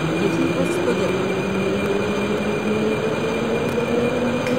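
Metro train in a Roblox game rolls steadily out of a station, a continuous mid-loud rumble with faint tonal whine, carried on alone without gaps.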